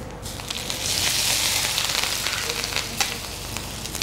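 Spices sizzle steadily in hot ghee while tempering for bori pulao, a close, loud crackling hiss with scattered sharp pops and no talking.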